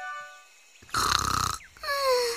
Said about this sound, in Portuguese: Parece o ronco dela.